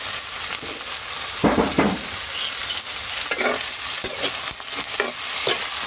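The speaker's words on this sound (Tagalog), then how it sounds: "Haluin lang." Eggplant adobo (adobong talong) sizzling in a frying pan as it is stirred, with a steady hiss broken by several distinct scraping stirs of the spoon against the pan, close and fairly loud, no talking.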